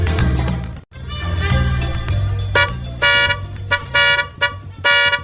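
A car horn honks repeatedly in short and longer blasts over an idling vehicle engine, loud and close, with uneven spacing between toots.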